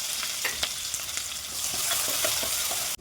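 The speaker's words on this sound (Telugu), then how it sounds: "సన్నగా కట్ చేసుకున్న ఉల్లిపాయలు పచ్చిమిర్చి వేసుకుని ఎర్రగా వేయించుకోవాలండి" Thinly sliced onions and green chilies fry in oil with cumin and mustard seeds, giving a dense, crackling sizzle with repeated stirring scrapes that stops abruptly at the end.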